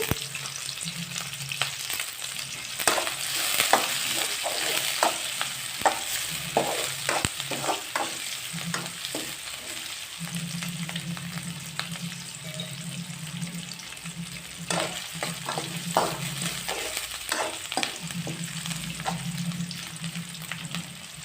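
Curry leaves frying in oil for a chicken curry, a constant sizzle close by with repeated scraping stirs and occasional clatter.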